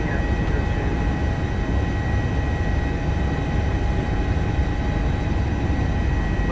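Airbus H145 helicopter in Microsoft Flight Simulator 2024 running loud and continuous on the apron before takeoff, a dense steady turbine and rotor roar without breaks.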